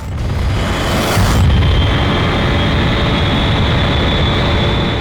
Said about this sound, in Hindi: अभी एक मिसाइल यहाँ से फायर किया गया है